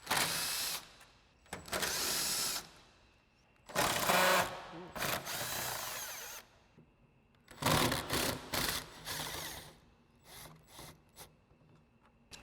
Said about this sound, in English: So we'll grab our 10mm and our extension again on our impact, take these off.